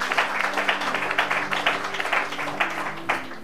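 A church congregation applauding, with rhythmic clapping in steady pulses alongside a sustained tone.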